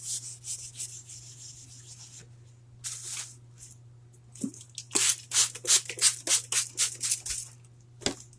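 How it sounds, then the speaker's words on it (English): A Chalk Couture craft mat is wiped clean of chalk paste residue in quick rubbing strokes, with a few slower swipes at first and then a rapid run of close, brushy passes. "I'm going to clean up the mat just a little bit."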